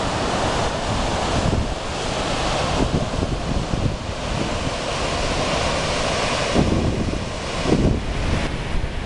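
Shoshone Falls, a waterfall on an Idaho river, gives a steady broadband roar of rushing water, continuous and fairly loud, with wind buffeting the microphone; no one speaks.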